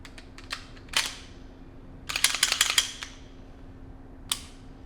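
Metal parts of a Walther PDP pistol click and snap together during reassembly, a few sharp isolated clicks followed by a quick cluster of rattling clicks and one final snap, close and fairly quiet.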